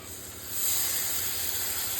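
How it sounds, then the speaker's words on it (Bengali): Spice water hits a hot pan of mourala fish and erupts into a loud, steady sizzling hiss that swells after a moment and holds on. "মশলার জলটা আমি এর মধ্যে দিয়ে দেবো।"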